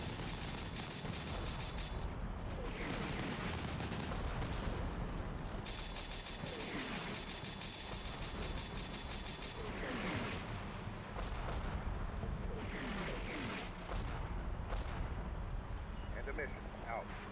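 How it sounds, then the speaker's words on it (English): Mortar rounds firing and impacting during an infantry assault with Stryker vehicles on a built-up area, heard as a continuous dense rumble of distant booms and blasts across the whole stretch, with no clear isolated shots. "There's the last rounds from the mortars."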